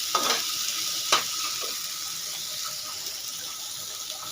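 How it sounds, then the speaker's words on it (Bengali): Ingredients and chilies frying gently over low heat in a pan for shrimp bhorta, giving a steady close sizzle with a couple of brief clatters of stirring and no talk. "হালকাভাবে একটু ভেজে নিব"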